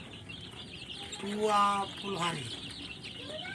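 Baby chicks in a brooding pen under warming lamps give a few high peeping chirps, rising briefly over a steady farm background hum while someone speaks nearby.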